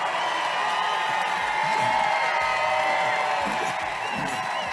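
Crowd noise: a dense, steady wash of many voices shouting and cheering at once, loud and continuous throughout with no single voice standing out.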